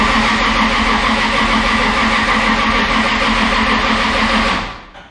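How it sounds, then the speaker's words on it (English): A car engine turns over steadily with a rough, continuous churning for several seconds, never catching, then winds down and stops. "it's not starting, but it's pretty dang cool to have it make some noise"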